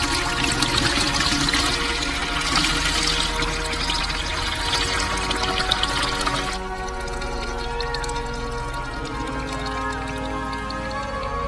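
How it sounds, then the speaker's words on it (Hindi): Salty water from soaked bananas is strained and poured out in a steady, close, splashy stream that softens partway through and keeps trickling, with no talk. "तो पानी को अपन छान लेते हैं, ताकि जो बाकी की चीजें हैं वो वैसी की वैसी रह जाए।"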